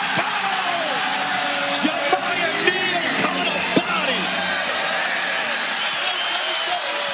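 Crowd noise at a Stanford versus Arizona State college basketball game, a steady roar of cheering fans with squeaking sneakers and ball bounces underneath, while a commentator talks over it.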